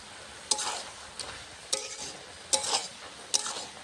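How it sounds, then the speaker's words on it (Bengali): Cabbage sautés in a pan with ginger and cumin paste, a steady soft sizzle broken by five sharp scraping stirs of a spoon against the pan, close and clear with no talking. "পাতাকপিটা কষাতে কষাতে কমে গেছে, আরও কমে যাবে"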